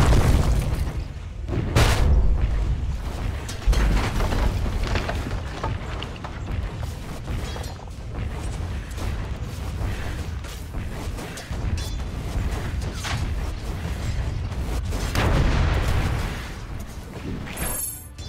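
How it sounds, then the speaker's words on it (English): In Dota 2, a middle tower comes under attack amid a barrage of heavy booms, bursts and mechanical impacts that keep pounding at a loud, uneven pace throughout the fight. "Dire's middle tower is under attack."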